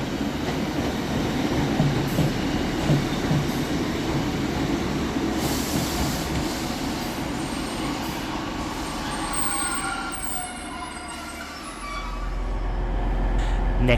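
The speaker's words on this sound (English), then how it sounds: "Arriving some 7 minutes late is 155343 with the 1624 Northern service from Bridlington through to York." Northern diesel unit 155343 pulls into Selby railway station with a sustained rumbling drone and rattle, a high whine or brake squeal rising partway through, then a deep low engine throb swells near the end.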